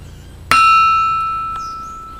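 A single sharp strike of a rusted old hammer on a steel anvil rings out with a clear, sustained bell-like tone that slowly fades, followed by a faint second tap.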